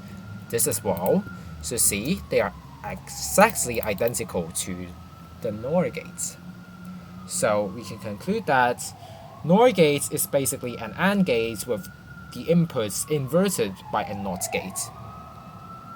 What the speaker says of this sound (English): Sorry for the ambulance noise,